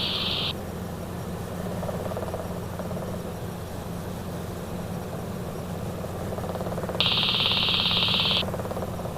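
Robinson R22 helicopter in flight on a training circuit, turning onto the base leg, with a steady droning rotor and engine hum from inside the cabin and brief high tones at the start and end, no talk.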